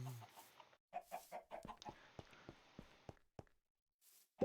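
Minecraft chickens in Sky Factory 3 cluck in a quick string of short separate calls, fairly close and clear. No speech is heard, and a louder bump sounds at the very end.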